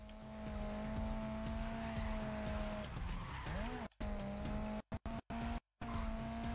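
Race car in the video game Grid Legends, a steady high engine drone with a prominent tire squeal and skidding, broken by brief dropouts near the end.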